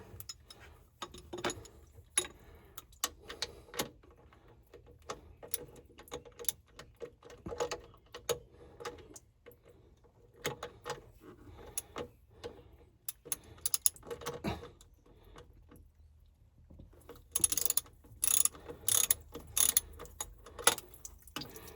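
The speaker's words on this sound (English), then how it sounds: "Loosen the bolt." Ratchet wrench loosening a bolt on a boat engine during an impeller replacement, a series of sharp, close metallic clicks and ticks in irregular bursts, growing louder and denser near the end.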